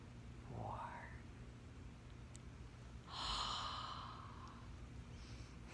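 A slow breath is drawn and then let out in a long, soft exhale during a counted breathing exercise, close and quiet with no other sound around it.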